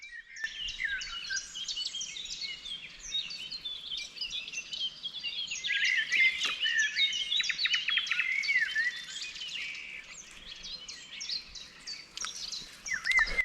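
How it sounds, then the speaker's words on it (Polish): Dense birdsong fills a riverside floodplain forest, many birds chirping and trilling at once in a continuous overlapping chorus, bright and fairly close, with no voices. "w tym lesie łęgowym jest ptaszorów. Posłuchajcie, jak napierają."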